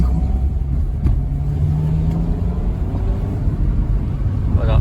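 Diesel car engine accelerating on a drive: a steady low rumble and drone inside the vehicle, rising slightly, with people talking over it.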